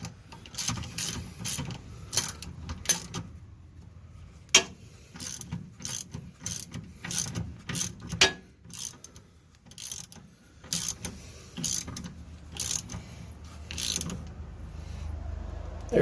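A wrench ratchets on the top nut of a Ford Focus shock absorber, bursts of quick clicking strokes repeating in short runs with pauses between, close and clear with no talking.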